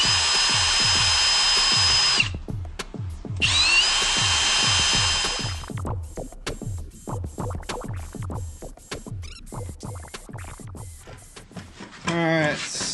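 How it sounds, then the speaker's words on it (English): A power drill with a 1/8-inch bit whines in two long bursts, then short on-off bursts repeat rapidly, drilling hole after hole in a plastic spray bar; a voice speaks under it. "I just got an 1/8-inch drill bit shucked up into my drill."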